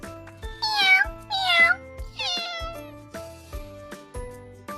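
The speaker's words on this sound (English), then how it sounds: "Cat." Cartoon cat meowing over a light background tune, three drawn-out rising-and-falling meows in close succession, loud and clear with no talking.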